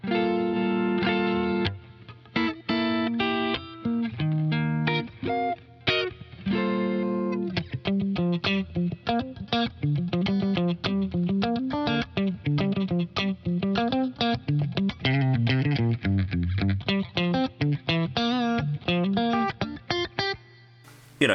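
An electric guitar runs through a digital Boss CP-1X compressor pedal, playing a continuous stream of picked notes and short chord stabs, clear and sustained, with no talking.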